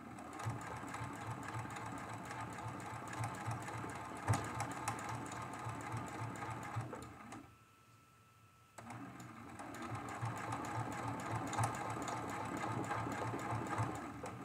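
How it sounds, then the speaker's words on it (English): A sewing machine runs steadily during free motion quilting, a fast even mechanical whir that stops briefly for a second before resuming, fairly quiet and close. "I'm going to stitch to the top of his beard"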